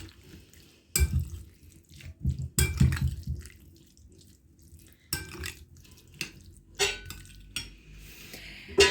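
Tuna in oil and beans are tossed together in a bowl for a salad, giving irregular clinks, scrapes and wet stirring bursts separated by brief quiet gaps, close by.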